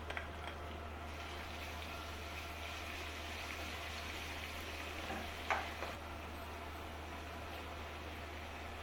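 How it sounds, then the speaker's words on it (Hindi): Garlic and ginger fry in oil with onions for a beef biryani, giving a soft, steady sizzle under a low hum. A brief stirring scrape comes near the middle, and the sound stays faint throughout. "अभी हम इसमें लहसुन डाल रहे हैं और अदरक।"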